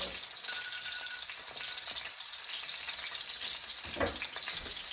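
Brined steak sizzles steadily in a hot pan just after being flipped, a dense hiss with a brief sharper burst near the end, heard fairly quietly and without talk.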